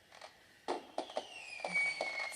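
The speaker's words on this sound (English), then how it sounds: "So the fireworks sounds have started." Fireworks pop and crackle faintly in the background, a handful of sharp bursts at irregular intervals with a thin whistling trail, distant and quiet, no voices.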